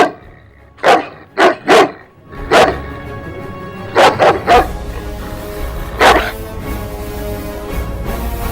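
A dog barks in short, sharp bursts, about eight loud barks spaced irregularly across several seconds, with quieter background noise between them.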